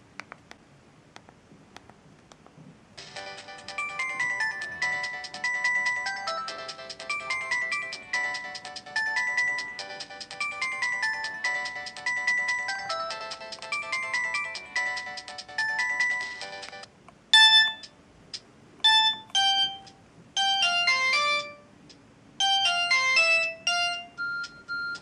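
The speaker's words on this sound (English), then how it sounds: "let's take a look at the ringtones" A Samsung GT-E1150 mobile phone plays a run of its built-in ringtones, first a long repeating electronic melody, then several short chiming tone snippets separated by brief pauses, clear and close with no talking.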